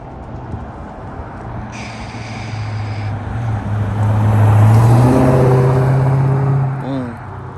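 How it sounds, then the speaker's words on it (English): A Chrysler 300 engine hums and swells as the car drives up a hill, revving louder mid-clip before easing off, with faint background noise throughout. "my brother is driving the car up the hill"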